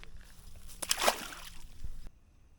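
A small fishing item, such as a float, plops into water on a cloudy day of angling. The single splash comes from close by, with a brief gurgling slosh after it and quiet water sounds around it.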